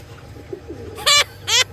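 An unusual breed of pigeon gives two short, bright calls close by, one after a quiet lead-in and a second a moment later, over a low steady background hum.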